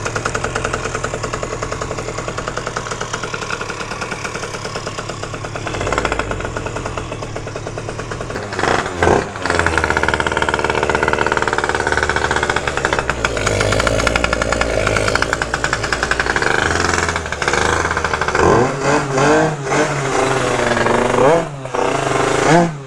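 A Phantom F12 scooter with a 70cc engine on a test ride, its small two-stroke engine buzzing loud and continuous close up, revving up and down with rising and falling pitch toward the end.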